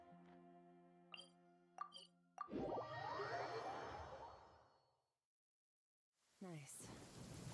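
In a video game, a few bright chime-like tones ring out before a heavy rolling crash of thunder with rain swells, peaks and fades into silence. Another burst of storm noise then returns.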